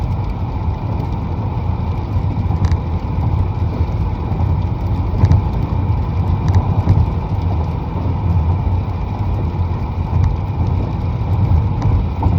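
A semi truck passing on a wet road in the rain, a steady loud low rumble and road roar with faint rattling mechanical ticks, continuous and close throughout.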